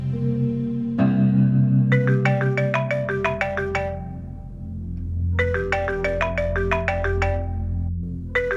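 A telephone rings at night, a steady electronic ringtone with trilling bursts repeating twice, clear and fairly close over a low background hum.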